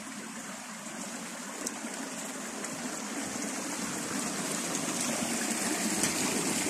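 A mountain stream flows steadily in a scenic valley of Gilgit-Baltistan, a continuous broadband rush of water that grows slightly louder over the span, with no other sounds intruding.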